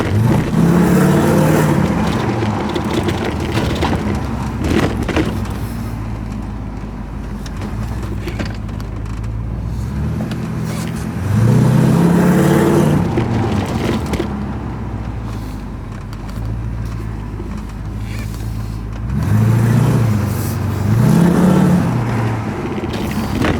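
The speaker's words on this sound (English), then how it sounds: "Engine sounds really quiet actually. Much quieter since the oil change." A Porsche 928's V8 engine runs after an oil change, a steady low rumble with three swells of revving spaced through, close and fairly loud, no talk.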